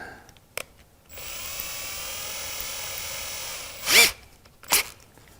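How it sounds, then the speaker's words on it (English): A small drill turns steadily through a carburetor with a 1/8 inch reverse drill bit, a continuous whine lasting several seconds, then short sharp bursts of tool noise afterward. "get yourself a reverse drill bit."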